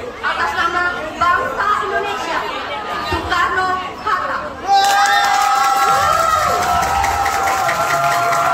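Class supporters at a school contest for reading the Indonesian independence proclamation cheer and chatter as a noisy crowd, with shouting children, then a louder burst of cheering and clapping joined by music, while a voice talks over them.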